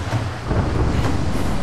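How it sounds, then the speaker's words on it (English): Deep rolling thunder from an approaching storm in the video game Tomb Raider, a continuous low rumble with wind-like hiss that holds steady and fairly loud throughout, with no speech. "Storm's getting closer."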